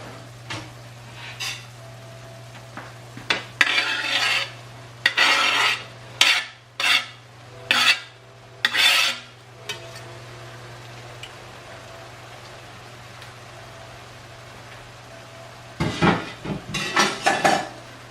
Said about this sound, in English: I'm going to stir this all together now and let it cook down.